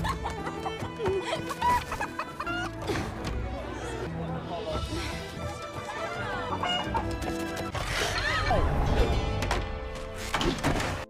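Chickens cluck and squawk in a scene from the animated Mulan film, under a busy, loud mix of music and commotion that carries on throughout.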